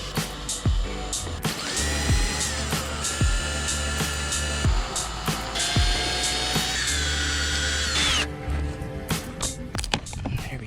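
Power tool whirring in sustained bursts while nuts and bolts come off the side skirts of a Toyota GR86, loud and close, with high spinning whines that rise and cut off, clanks between runs, and no talking.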